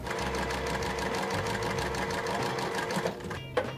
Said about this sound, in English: So I'm gonna start sewing here.